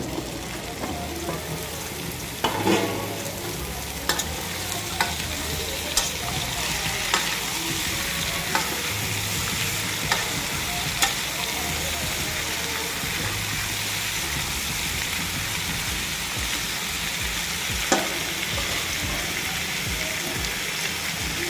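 Pumpkin pieces sizzle steadily in a hot pan while a spoon stirs them, with occasional scraping clicks over the constant close frying hiss.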